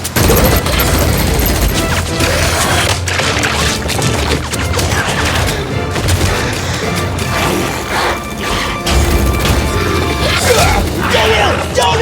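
Rapid bursts of weapon fire crackle through a chaotic animated science-fiction battle from the series Ling Cage, loud and nearly continuous, mixed with mechanical clanks, crashes and impacts.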